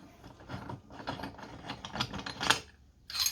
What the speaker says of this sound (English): turn the nut and it will pull the crankshaft into the case